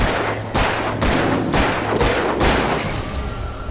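Gunshots from a gun in the Alan Wake video game: about six sharp, loud reports fired at a steady rhythm roughly half a second apart, each with a short booming tail, then a quieter stretch at the end.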